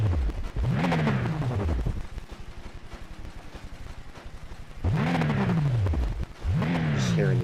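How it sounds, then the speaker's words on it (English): V8 supercar engine in a racing video game revving hard in loud rising and falling sweeps, dropping to a steady lower drone in the middle before two more sharp revs. "Just hearing this car rev."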